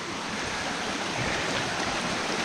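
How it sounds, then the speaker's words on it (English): A mountain stream swollen after heavy rain rushes steadily downhill, a dense, continuous close-up roar of flowing water with no other sounds. "as the water flows"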